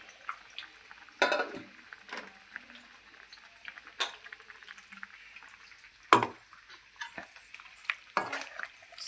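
Spoon scrapes and clinks against a pot as a masala of pepper, cumin and fennel is stirred into simmering liquid, intermittent close metallic strokes over a faint bubbling background.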